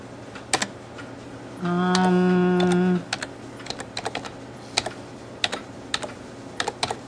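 Fast, uneven keystrokes on a computer keyboard while a file is renamed, with a brief steady electronic tone in the middle; the clicks sound close and there is no talking.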